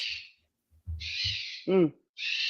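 A pet bird gives loud, shrill screaming calls in bursts indoors, near and piercing, separated by brief pauses, with a short low vocal sound in between.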